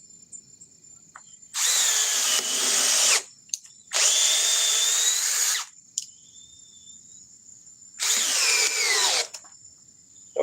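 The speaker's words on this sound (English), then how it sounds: "Milwaukee 3404-20 subcompact drill." A Milwaukee 3404-20 cordless subcompact drill whines in three bursts of about one and a half seconds each, separated by short pauses, loud and close, with faint background hum between runs.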